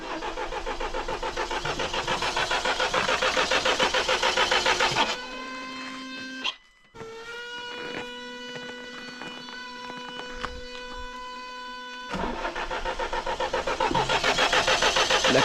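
A Mahindra Thar is cranked in the cold and fails to start. A rapid whirring starter runs for several seconds, stops briefly, then cranks again later, each attempt ending without the engine catching.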